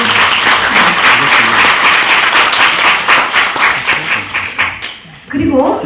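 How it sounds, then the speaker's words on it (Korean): Audience at a mayoral candidates' social welfare policy debate in Yongin breaking into dense, sustained applause for several seconds, fading briefly before a final burst of clapping. "박수 좀 쳐주시죠."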